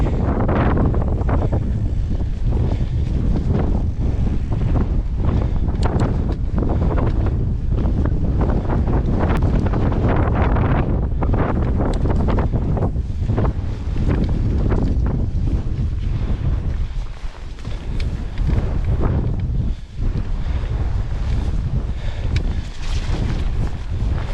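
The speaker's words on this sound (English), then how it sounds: "Oh, the wind is crazy." Strong, continuous wind buffeting the microphone during a mountain bike ride on Derwent Edge, a loud, roaring rumble that fills the whole clip with brief dips, no talk heard.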